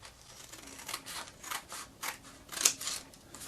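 Scissors cut paper strips for a paper weaving craft, a close series of about eight crisp, evenly paced snips with no voice.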